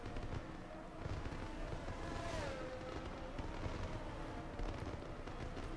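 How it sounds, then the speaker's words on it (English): Fireworks going off in the Singapore Grand Prix racing game, heard as a low distant rumble of bursts and crackles with a rising whistle, under a continuous background roar and faint car noise. "You can hear the fireworks already going off."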